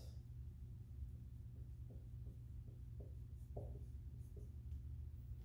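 Chalk or marker writing on a board during a real analysis lecture: a series of short, soft scratchy strokes in a quiet room with a steady low hum underneath.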